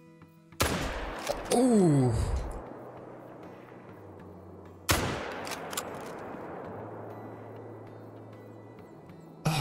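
Two loud rifle shots from a hunting rifle aimed at a moose in the game Call of the Wild, each a sharp crack with a long rolling echo, spaced about four seconds apart; a brief vocal exclamation follows the first.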